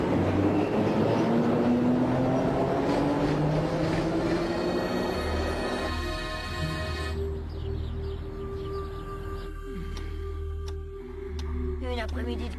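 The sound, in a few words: Paris metro train running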